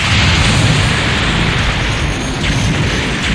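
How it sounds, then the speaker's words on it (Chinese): A loud, sustained rumbling blast from the mecha strategy game Super Robot Wars OG, a dense roar of broadband noise that holds steady for its whole length with no voices. "爆炸"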